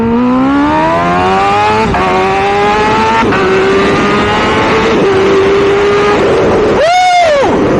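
Kawasaki Ninja H2 motorcycle at full throttle on race gas, close and loud, its engine note rising steeply through the gears with brief dips at each upshift before a final sharp rev climb near the end.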